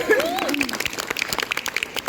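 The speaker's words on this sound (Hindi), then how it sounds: "पहले तो मेरे दोस्तों के लिए एक बार जोरदार ताली" Brief group applause with crisp, closely spaced claps, joined at the start by a short raised voice and then continuing on its own.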